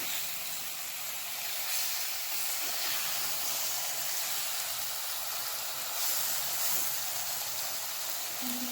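Marinated chicken sautéing in a pan for a Tamil-style chicken curry, giving a steady, close sizzling hiss that holds at an even level throughout, with faint clinks underneath.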